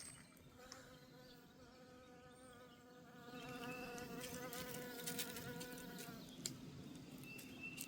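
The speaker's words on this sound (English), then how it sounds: "Next thing you know, it's gonna be buzzing with honeybees back here." Honeybees buzz around a blooming crabapple tree, a faint wavering drone that swells and thickens midway as more insects pass close, with light outdoor background noise and no talking.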